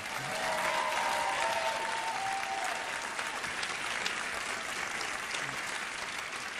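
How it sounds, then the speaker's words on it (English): Steady applause from an audience at a spring all-CIF high school sports awards show, a dense continuous clatter of clapping holding evenly loud throughout with a faint murmur of crowd beneath. "So please, a round of applause for the hardworking men and women of the ASR photography staff."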